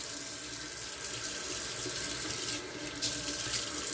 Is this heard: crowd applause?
no